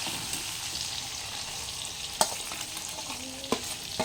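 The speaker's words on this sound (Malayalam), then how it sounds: "ഇതെല്ലാം ഇളക്കി പിടിപ്പിക്കണം." Lemons and masala are stirred in hot oil for a Kerala-style lemon pickle: a soft, steady sizzle with a few sharp spoon scrapes and clinks against the pan, close and fairly quiet, with no talking.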